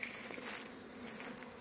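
Honeybees swarm busily at hive entrances during eucalyptus bloom, giving a steady, close insect hum with soft buzzing texture throughout and no voices.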